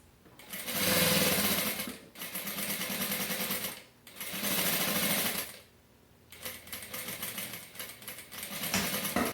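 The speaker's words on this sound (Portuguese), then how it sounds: "eu vou então abraçar a borda da telinha vôlei e vou costurar esse viés." A sewing machine stitches bias tape along the edge of mesh fabric, running in loud, steady whirring bursts that stop briefly between runs, close up and unaccompanied by talk.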